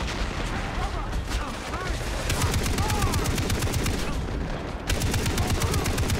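Sustained rapid gunfire from a big gun in Far Cry 3 keeps a dense, loud, continuous rattle of shots going throughout, with speech mixed in.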